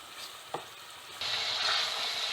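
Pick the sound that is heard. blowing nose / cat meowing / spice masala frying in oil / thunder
spice masala frying in oil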